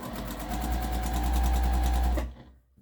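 A sewing machine stitching across an apron in a rapid, even mechanical chatter close by, running steadily for about two seconds before stopping abruptly and leaving near silence.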